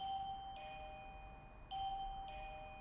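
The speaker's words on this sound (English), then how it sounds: "I forgot to take out the doorbell buzzer." A two-tone electronic doorbell chime sounds twice, spaced about a second apart, in an otherwise quiet room.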